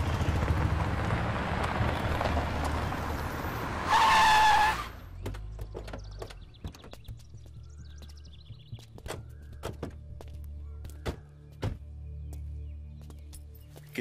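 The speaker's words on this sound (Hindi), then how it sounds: "ए गाड़ी चला" A car pulls away with a loud rush of engine and tire noise and a brief squealing tone, then the scene drops to near quiet with scattered small clicks and knocks.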